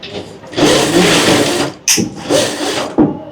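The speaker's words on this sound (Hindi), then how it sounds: "यहाँ पे बाजू की सिलाई शुरू हो चुकी है।" An industrial sewing machine stitches a jacket sleeve in loud, steady whirring runs, broken by two short pauses and quick restarts.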